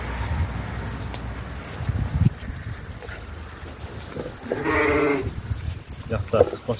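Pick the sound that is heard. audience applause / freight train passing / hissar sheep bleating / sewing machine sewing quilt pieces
hissar sheep bleating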